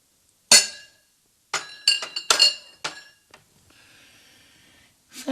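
A large wine glass is set down on a banquet table and clinks bright and close several times, with sharp ringing taps scattered among soft handling noises.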